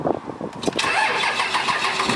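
A 2005 Cummins 5.9 diesel pickup cranking with a few rapid starter turns, then catching and settling into a loud, steady, close idle.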